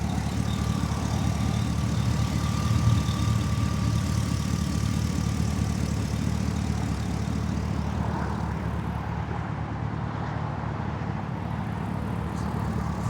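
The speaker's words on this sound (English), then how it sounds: "Very nice idle, super smooth." A 1958 Corvette restomod's LS3 V8 engine idling steadily for the whole stretch, a smooth low rumble at even volume with no voices.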